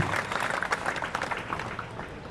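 An audience at a memorial tribute to Samira applauds steadily, a dense, even patter of clapping hands that carries on at moderate volume throughout the short stretch.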